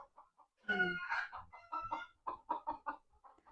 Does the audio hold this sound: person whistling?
no